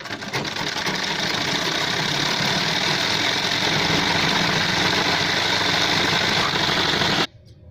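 A sewing machine running a continuous stitch along the band of a men's shirt, a steady dense mechanical whir at an even pace for about seven seconds before stopping abruptly, with no speech.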